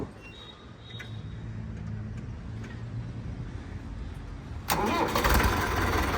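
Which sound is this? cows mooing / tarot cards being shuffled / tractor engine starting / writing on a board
tractor engine starting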